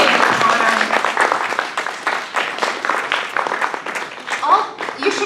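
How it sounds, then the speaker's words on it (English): An audience at a candidate forum bursts into a round of applause, dense clapping that starts strong and thins unevenly, with voices talking over it. "Please, let's give them a nice round of applause."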